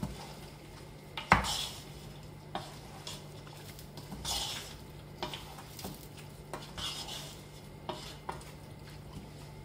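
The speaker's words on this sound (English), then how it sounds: "You're gonna give it a little stir." Food is stirred in a pan over the heat, with a sharp clank early on and then repeated scraping strokes at a moderate pace over a faint sizzle.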